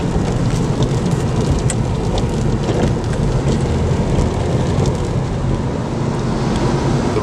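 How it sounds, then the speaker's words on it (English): Steady rain on a wet Sunday outing, a dense, even hiss close by with a low rumbling wash beneath it, like traffic or tire spray on wet road, continuous throughout with no voices. "The rain's letting up a bit"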